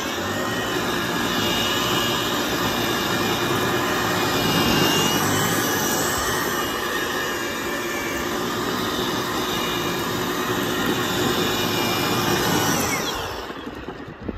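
EGO battery-powered paddle broom fitted with sweeper wheels, sweeping sand and gravel off a surface: a loud, steady, high-pitched motor whine with a constant rushing hiss, close and unbroken, tapering off at the end.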